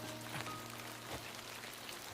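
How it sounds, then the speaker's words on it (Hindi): Rain falling steadily on a surface in a drama scene, a soft continuous patter at low level with no voices. "बारिश हो रही है।"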